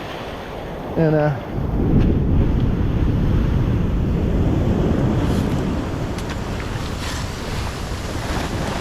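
Large ocean waves, six to eight feet high, crash and surge continuously in a steady roar close by, with wind buffeting the microphone and a brief voice near the start.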